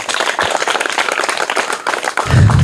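An audience at a children's quiz event in Bihar gives loud, dense clapping for a quiz winner, continuous and close, with a low thump near the end.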